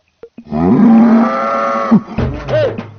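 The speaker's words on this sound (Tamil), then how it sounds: "அந்த எருமாடு தண்ணி வைங்கடா, கத்துதுடா." A buffalo bellows in a Tamil comedy scene: one long, loud, close moo that falls away at the end, followed by a shorter low grunting call.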